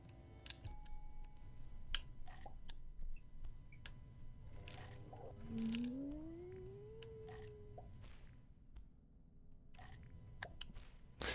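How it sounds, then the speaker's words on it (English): Cat-like meows and chirps come from a rabbit in the puzzle-platformer Braid, set over a soft game music bed, with a rising, sliding tone partway through and a brief silent gap near the end. "Does this rabbit have cat sound effects?"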